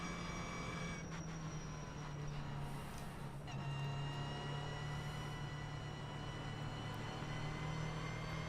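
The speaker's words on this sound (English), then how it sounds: "Horrible sounding cold brakes." Quiet, sustained high-pitched squeal of cold race car brakes in a video game, steady tonal whine over a low hum, continuing throughout without pause.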